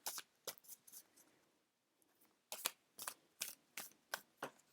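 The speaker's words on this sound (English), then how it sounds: "Let's give it a bit of a shuffle." Oracle cards are shuffled up close in a series of quick, crisp riffling bursts, with a short pause partway through.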